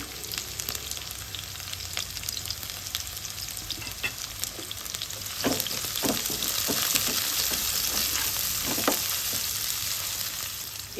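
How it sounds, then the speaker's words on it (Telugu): Finely chopped onions frying in oil in a pan, a constant close sizzle with occasional stirring scrapes and soft clatters, growing slightly louder midway. "ఉల్లిగడ్డలు అయితే మంచిగా నూనెలు అయితే వీటిలో ఫ్రై అయిపోయినాయి"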